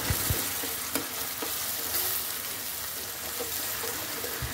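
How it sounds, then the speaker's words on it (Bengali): Onion, cumin, ginger and garlic pastes being sautéed for a beef tongue dish give a dense continuous sizzle, with a few sharp spatula taps and scrapes against the pan up close. "মশলাগুলো ভালোভাবে কষিয়ে নিচ্ছি।"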